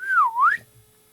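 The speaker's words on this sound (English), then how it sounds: "I'm gonna whistle this bad vibe away." A single clear human whistle swoops down and back up in one smooth, close, fairly loud phrase lasting about half a second, then fades to quiet.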